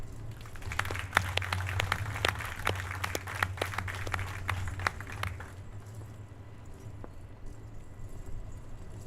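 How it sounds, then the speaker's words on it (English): A crowd applauds with dense, steady clapping for about five seconds at a National Maritime Day ceremony in Baltimore, then it fades out to a quiet low hum. "another round of applause"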